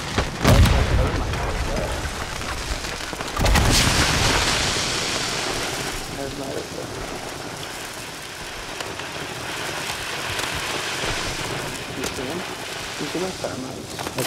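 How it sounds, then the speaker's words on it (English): A grenade blast in Call of Duty lands as a sharp broadband boom near the start, followed by a second heavy burst and a long rumbling, rain-like wash of debris and ambience, with game noise continuing underneath. "I throw a grenade down."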